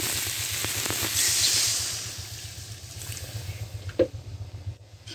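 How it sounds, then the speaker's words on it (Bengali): Water hits a hot pan of frying tengra fish curry with taro stems, raising a loud, steady sizzling hiss that swells and then settles into softer bubbling, with a low pulsing hum underneath. "এবার আমি জল দেবো"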